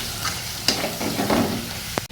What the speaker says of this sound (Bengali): মধ্যে দিয়ে দিচ্ছি হলুদ দিয়ে এবার একটু কষাবো